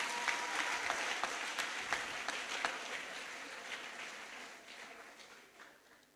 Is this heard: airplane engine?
no